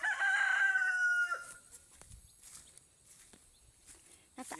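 A rooster crows once loudly and close at the start, a long drawn-out call, followed by quieter farmyard rustling and scattered faint chicken sounds.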